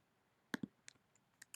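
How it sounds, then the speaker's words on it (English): Two quick, close mouse clicks closing a window in the Photopea image editor, followed by a few fainter scattered clicks in otherwise quiet surroundings. "I'm just going to click to close that window."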